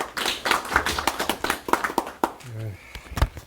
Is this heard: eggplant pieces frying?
no